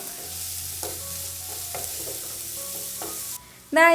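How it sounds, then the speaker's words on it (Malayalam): Onions sautéing in a pan for a soya chunks roast give a steady close sizzle with intermittent scraping stirs, ending in a brief pause and a sharp clatter. "സവാളയും ചേർത്ത് കൊടുത്തതിന് ശേഷം വീണ്ടും നല്ല രീതിയിൽ ഒന്ന് വഴറ്റി കൊടുക്കാം"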